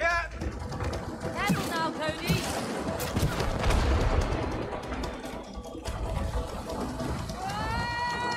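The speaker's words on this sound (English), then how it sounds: "I heard our boat." Rushing, churning water and engine rumble from a boat moving through a scene in the video game It Takes Two, with bursts of impacts and excited voices talking over it.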